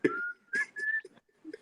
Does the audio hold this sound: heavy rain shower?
no